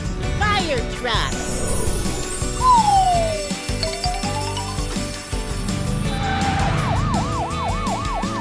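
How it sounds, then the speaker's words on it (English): A fire truck siren wails in rising and falling sweeps, starting as a single long glide and then turning into rapid repeated yelps, loud and close, with traffic noise and children's voices in the background. "F. Fire truck."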